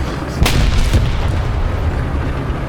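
Heavy tank cannon of the KW II 754 (r) firing in War Thunder, one loud deep boom with a sharp crack near the start, a second smaller impact shortly after, then a rumbling tail under steady engine noise.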